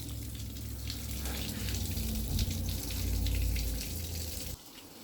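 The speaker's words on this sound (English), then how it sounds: "I'm going to go ahead and turn my water on and get my water flowing in to the lower unit" Water from a garden hose gushes into the lower unit of a boat's Mercruiser Bravo 1 outdrive, a steady broadband splashing flow that swells midway and cuts to a quieter hiss near the end.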